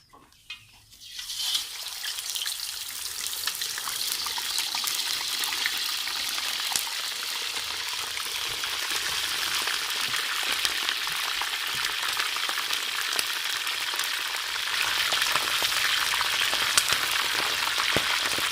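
Eel pieces, for a spicy chili eel dish, go into hot oil for deep frying. A soft clatter comes first, then a loud, bright, steady sizzle and crackle that builds and continues throughout.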